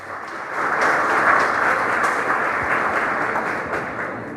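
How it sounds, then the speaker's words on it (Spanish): Applause from the audience at a Honduran bar association ceremony, loud sustained clapping that swells after a moment and holds steadily, with no speech over it. "Un fuerte aplauso, por favor"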